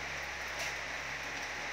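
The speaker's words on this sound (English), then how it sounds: "It's raining, man. It's raining." Rain falls steadily in the Kakamega tropical rain forest, a soft, even patter and hiss with no talking, continuous for the whole short moment.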